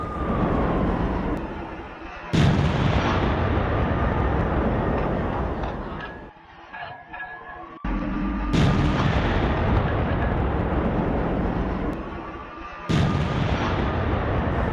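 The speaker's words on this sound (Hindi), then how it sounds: "यूक्रेन ने रॉकेट से रूसी टैंक को बनाया निशाना।" A Ukrainian rocket attack on a Russian tank at Marinka produces loud, sustained roaring blasts that swell into long rumbling booms, interrupted by a sharp new detonation every few seconds and one brief lull.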